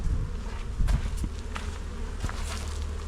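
Bees buzzing around hives in a rapeseed-area apiary, a dense close hum with individual insects whizzing past the microphone, steady and fairly loud with no talk.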